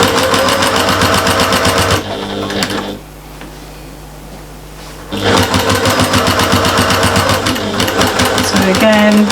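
A sewing machine stitching a seam on a big shopper bag, running in loud close bursts of rapid needle hum, pausing briefly in the middle before starting up again.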